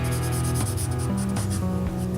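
Pencil shading on a drawing of a hand makes a steady, soft scratching that rubs along beneath louder background music.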